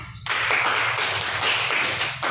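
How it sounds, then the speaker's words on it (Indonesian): Students in a classroom break into a burst of steady group clapping that starts abruptly, stays dense and fairly loud, and cuts off near the end. "Tepuk tangan."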